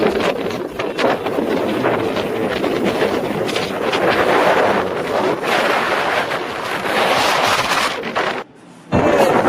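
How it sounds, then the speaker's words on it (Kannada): Strong wind on top of Jalashankara hill, a hilltop temple site, roars loudly and continuously as gusts buffet the microphone, with a brief lull near the end before the blast returns; no one speaks. "ಗಾಳಿ ಮಾತ್ರ ಸಿಕ್ಕಾಪಟ್ಟೆ ಇದೆ"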